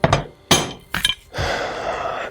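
Fox 40 mountain bike fork cap being threaded back onto the fork of a Bomber electric bike: a few separate metallic clinks and knocks, then a longer scraping rasp as it turns, close and loud with no talking.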